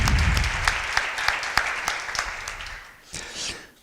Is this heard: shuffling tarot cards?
no